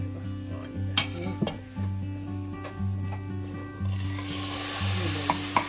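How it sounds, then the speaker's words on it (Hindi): A steady, close sizzle of hot oil under scraping and stirring as moong dal is poured into a tempering, with occasional sharp clinks of a spoon against the pot. "ये चली गई दाल तड़के में हमारे। और अब ये तड़का मिक्स होके जा रहा है दाल में।"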